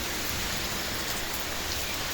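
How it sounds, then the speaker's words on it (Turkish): Heavy rain pours down outdoors in Germany, a dense, even hiss of drops drumming on surfaces without a break. "Bu yağmur birkaç saat dinmez."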